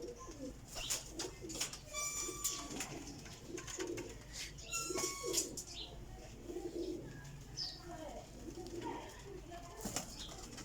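Sialkoti pigeons coo softly and repeatedly in a loft, with chirps and occasional wing flaps mixed among them, a busy layered bird chorus at moderate distance, faint voices in the background.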